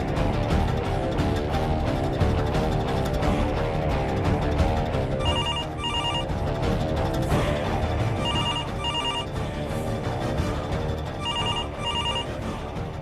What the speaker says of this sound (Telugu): ఆ ఫోన్ ఏంటో చూడవా?